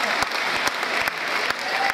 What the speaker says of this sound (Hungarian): Tapssal gondoltam én.